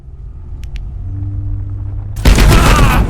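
Automated turret fire in the video game Abiotic Factor, a sudden loud, dense burst of shots over a low ambient rumble after a couple of faint beeps.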